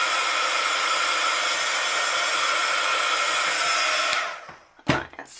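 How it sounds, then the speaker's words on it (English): A heat gun blows a steady, loud, close airy roar to dry a craft item, then cuts off near the end, leaving a few handling knocks. "So I'm just going to give this a blast with the heat gun."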